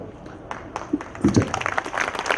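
Audience clapping at a Pak Sarzameen Party workers' interactive session: scattered claps that swell into a brief, dense round of applause in the second half, with some voices underneath.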